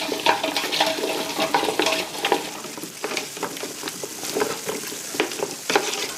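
A chestnut, onion and tomato stew with pureed tomato sauce is stirred in a pot, giving continuous close wet sizzling and scraping with repeated stirring strokes, no talking.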